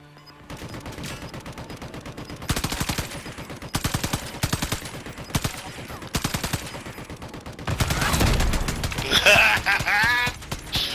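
Video game gunfire in a battle-royale match: several rapid bursts of automatic shots in separate volleys, loud and close, ending in a denser clatter with little talk.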